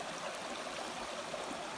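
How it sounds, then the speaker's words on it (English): Creek water flowing steadily beside a hiking trail, a continuous close rushing and trickling with no voices. "here we are at Justice Creek"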